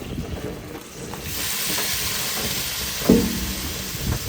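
Butter melting and frying in a pan as leftover liquid cooks off, a steady close hiss that swells after the first second, with a single soft knock near the pan about three seconds in.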